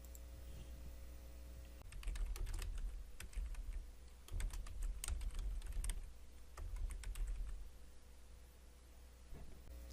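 Fingers type subtitle text on a computer keyboard at close range, producing bursts of quick, light key clicks separated by brief pauses over a faint background hum.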